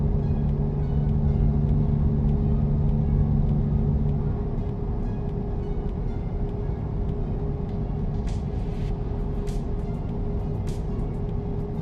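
Truck driving in American Truck Simulator, a loud steady low engine rumble and road drone throughout, with a few brief clicks near the end.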